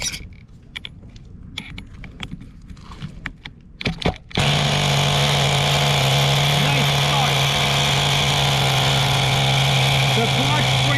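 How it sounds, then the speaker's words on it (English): An HPI Nitro Firestorm 10T RC truck's nitro engine, running 30% nitro fuel, fires up after a few clicks and knocks, then idles loud and steady at close range. "At this low of an idle, it should not be rolling forward like this"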